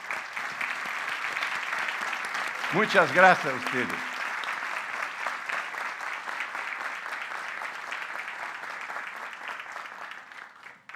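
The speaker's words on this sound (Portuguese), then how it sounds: "Eu queria pedir uma salva de palmas para esse pessoal." Sustained audience applause at an international seminar, dense steady clapping that fills the whole stretch and slowly tapers at the end, with a brief spoken thank-you over it early on.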